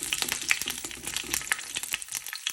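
Mustard seeds popping and spluttering in hot oil with curry leaves, for an arusim paruppu dish, a dense crackling sizzle with sharp scattered pops, close and alone.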